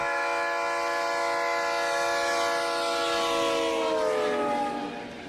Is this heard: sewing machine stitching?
no